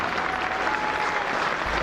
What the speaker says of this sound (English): Applause ringing out for Sachin Tendulkar, his 3rd half-century in Test cricket